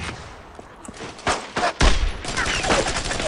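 Machine gun fire in the World War II shooter game Brothers in Arms, with loud close bursts of rapid shots building up in the second half.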